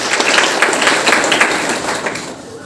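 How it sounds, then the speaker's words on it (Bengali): Audience at a school education programme breaking into loud, continuous applause, dense overlapping clapping held steadily for a few seconds before easing slightly at the end. "আমরা সবাই একটা জোরে হাততালি দিই।"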